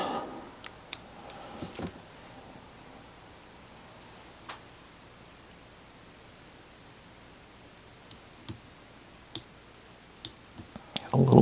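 Small scissors snip fly tying materials at the vise in a few sharp, close clicks, scattered irregularly across a quiet background with a louder burst near the start.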